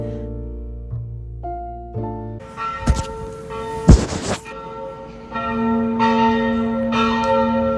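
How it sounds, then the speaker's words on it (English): Deep church bells ring out repeatedly at 7 a.m. in Croatia with long, overlapping resonant tones, interrupted by a couple of nearby thumps before the pealing continues. "The bells are ringing."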